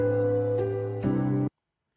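Sampled chord stabs played in FL Studio, a sustained harmonic chord that shifts once near the middle and then cuts off abruptly, followed by silence; dry, loud and close, with no voices.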